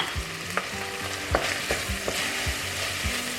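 Onions and leeks sizzle steadily in a hot pan, with repeated scraping strokes of a spoon stirring them at close range, continuous frying hiss throughout and no talking.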